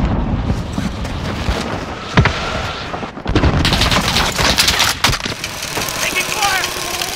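Heavy exchange of gunfire in Call of Duty: Modern Warfare, with dense automatic fire and sharp cracks over a constant rumbling battle backdrop, and game voice chatter heard in the mix.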